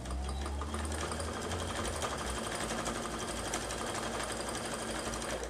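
A sewing machine runs continuously along the edge of a fabric notebook cover, a close, steady whirring hum with fast stitching rhythm and no pauses.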